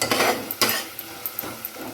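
Rice and dal being stirred and fried with spices in a pan for khichuri, a spatula scraping through the mixture with a steady sizzle and a few distinct clinks of utensil against the pot.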